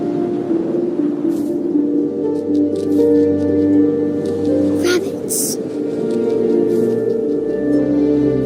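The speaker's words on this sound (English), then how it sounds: "Then I heard little teeth nibbling in the grass." Small teeth nibble in grass in a first-person video game, soft squishy crunches scattered over a steady tonal ambient drone, with a voice narrating over them.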